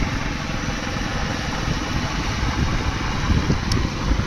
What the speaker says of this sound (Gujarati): બાઇક લઈને નીકળી ગયા